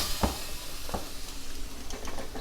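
Boneless pork chops searing fat side up inside an air fryer give a steady, close hiss and sizzle over a fan-like rush, with a few soft knocks and taps.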